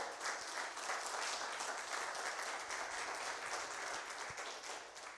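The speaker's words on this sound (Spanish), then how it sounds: "Dele un aplauso de alabanza al Señor." A church congregation applauds in praise, a steady dense wash of clapping from many hands that holds evenly throughout without talk.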